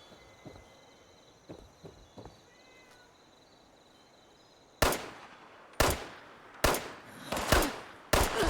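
Enemy gunfire in the Fallout 76 game world: a string of sharp, loud shots in an uneven rhythm following faint ambient footsteps and quiet game sounds.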